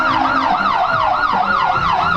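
An ambulance rolling in a 2017 Christmas parade in LaFollette sounds its siren in a loud, close, continuous wail that rises and falls quickly and evenly, over a low road rumble.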